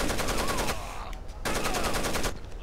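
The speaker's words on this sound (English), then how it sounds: "do you like my machine gun?" Machine gun fire in the Rainbow Six Vegas video game: two long, dense bursts of rapid automatic shots, each lasting close to a second, separated by a brief pause, loud and close.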